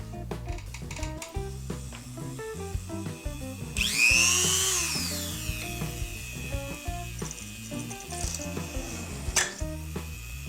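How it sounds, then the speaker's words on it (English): A power drill whirs in a steady burst, rising in pitch as it pre-drills holes in a model aircraft wing, set against other workshop noise and some music in the background. "we'll go ahead and pre-drill the holes"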